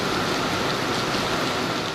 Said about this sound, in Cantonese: 伴隨小犬嘅仲有暴雨